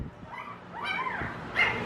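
Dogs yip, whine and whimper in short rising cries, with a louder bark near the end, close by in a home.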